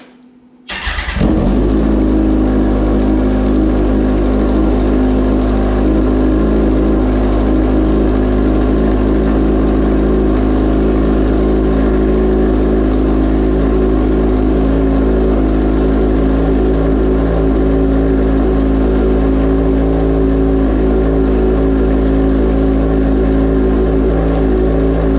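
A 2021 Kawasaki ZX14R fitted with a new Voodoo exhaust fires up with a sharp bark, then settles into a steady, loud, close idle with a deep throaty rumble that holds unchanged to the end.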